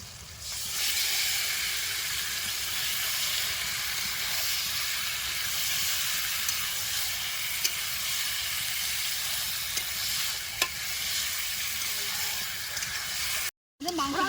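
Marinated chicken for a restaurant-style chicken biryani fries in spiced masala whose oil has separated, giving a loud, steady close sizzle and hiss that runs unbroken for about thirteen seconds before a brief cut.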